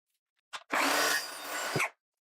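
A single sharp nailing burst fastens a 1x2 wooden board as window trim for a replacement window install, with a brief click followed by about a second of loud, hissing mechanical noise, close up and alone.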